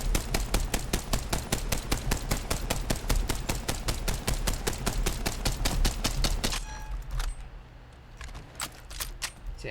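Rampage LMG gunfire in the video game Apex Legends: a long, evenly spaced burst of loud, punchy shots for about six seconds, then a short pause and a few more scattered shots.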